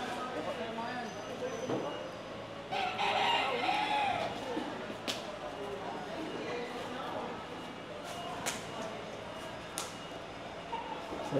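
A rooster crows at a distance over background chatter and ambient noise, with a few sharp clicks scattered throughout.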